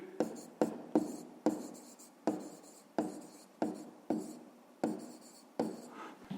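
Pen or pencil writing by hand on paper, working through a fifth-grade arithmetic problem about the cost of pencils: a run of close, crisp strokes and scratches in short repeated bursts, with no talking.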